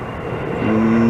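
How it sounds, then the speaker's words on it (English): A vintage Boeing 737-200 airliner rumbles at an airport in Montreal, a broad roar swelling gradually with a steady engine whine emerging as it grows louder. "Oh no, Boeing 7200, Boeing 737-200. Yeah man, vintage."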